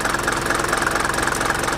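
Mercedes T1 van's OM601/OM602 diesel engine idles at operating temperature, a steady close, loud rhythmic knocking clatter with constant low throb and no speech.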